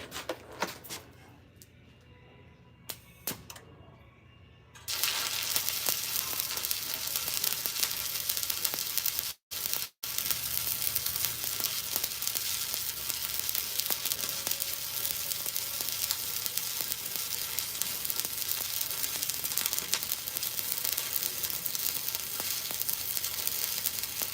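Stick welding arc burning down a welding rod in a welding shop on a cold day: after a few seconds of quiet shop noise, a loud, steady crackling sizzle runs continuously with a brief break.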